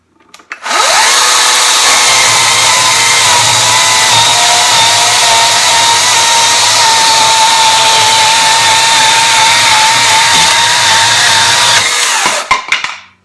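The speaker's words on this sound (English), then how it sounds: "This is a good little chainsaw right here." A Hychika 14-inch 40V cordless chainsaw cuts through wood, running loud and steady at close range for roughly twelve seconds after a quick start, then stopping with a few small knocks at the end.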